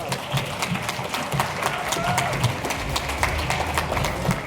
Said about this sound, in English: please applaud this amazing man